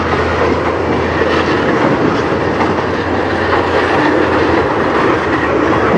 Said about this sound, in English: It's the only CSX train in this entire area.